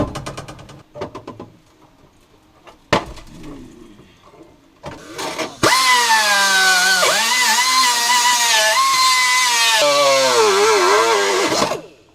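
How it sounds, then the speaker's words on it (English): After a few brief clicks and short bursts, a power drill roars loudly for about six seconds, its pitch wavering as it grinds through rusted metal of a GM pickup's floor board. "Gonna go ahead and finish drilling these out and get the rest of this section out."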